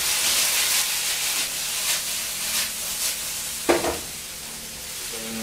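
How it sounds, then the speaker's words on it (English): Squash and potatoes are stirred into a chicken and butternut squash green curry, giving a steady sizzle and hiss with soft scraping strokes and one brief knock of the utensil against the pan. "So I'm going to put in the squash and potatoes now. Give that a whirl."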